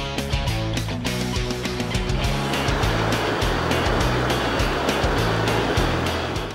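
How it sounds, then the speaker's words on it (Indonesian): Ocean surf rolls in with a broad, steady roar and hiss at a southern Indonesian surf break, loud and continuous, with a low engine drone mixed underneath. "Ombak pertama datang,"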